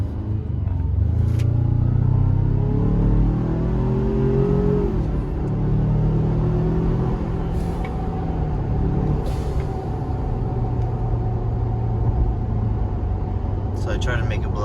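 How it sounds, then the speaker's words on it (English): A 2019 Ford Ranger fitted with aFe charge pipes accelerates on an open road, a loud close engine rumble with rising turbo whine and intermittent hissing bursts, while a voice talks over it. "let me see if we can hear the turbo way louder"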